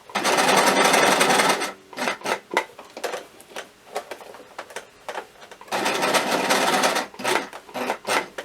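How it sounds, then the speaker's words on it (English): A sewing machine runs a zigzag stitch along a seam joining elastic in a skirt waistband, with two long steady whirring runs separated by a stretch of short stop-start bursts and handling noises. "then I come down the sides with a zigzag stitch"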